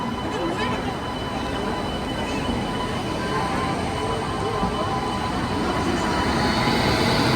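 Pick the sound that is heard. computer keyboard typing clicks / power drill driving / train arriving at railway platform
train arriving at railway platform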